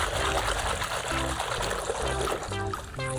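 Water trickles and splashes steadily while a muddy toy motocross bike is washed clean, with a continuous running-water wash and faint tonal background sounds beneath it.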